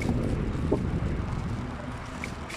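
Steady, broadband wind rushing and buffeting against the microphone on a cool, windy street, a continuous outdoor roar with no clear pauses.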